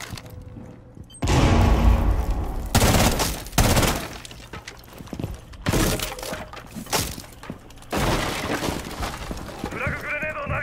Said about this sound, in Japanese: フラググレネードを投げる